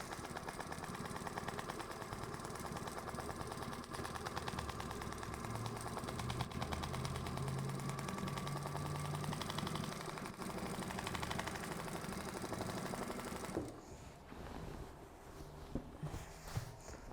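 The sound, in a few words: sewing machine stitching a quilted table runner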